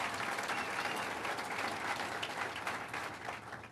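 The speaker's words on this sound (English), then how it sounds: "Let's give her a round of applause." An audience at a governor's State of the State address in Watertown gives a full round of applause, dense continuous clapping heard from within the hall, steady throughout.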